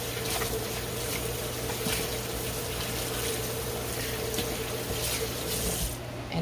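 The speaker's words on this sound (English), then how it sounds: "So I'm gonna wash my hands." Tap water runs steadily into a kitchen sink while hands are washed under it, a continuous close splashing hiss with a low hum beneath, just before cooking Jamaican-style brown stew pork.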